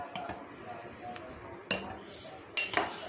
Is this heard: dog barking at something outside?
no